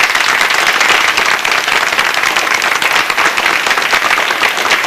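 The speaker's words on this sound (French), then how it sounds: "Vous pouvez l'applaudir" Audience applause for the parish priest at a 1979 Canadian evening gathering in St-Paul de Montminy, steady dense clapping from a crowd filling the whole stretch, loud and close with no talk over it.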